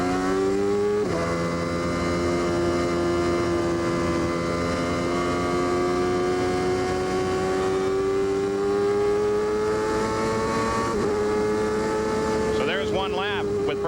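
Indy race cars in the 1995 CART round at Road America, Elkhart Lake, with a steady, droning engine roar held at high revs that shifts pitch briefly near the start and again near the end.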